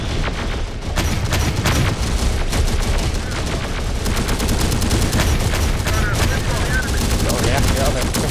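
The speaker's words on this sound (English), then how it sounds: "Enemy fire!" Enemy gunfire in Terminator Dark Fate Defiance rattles nonstop, loud rapid bursts of automatic fire with booming impacts layered throughout, a relentless close battlefield barrage with voices faintly underneath.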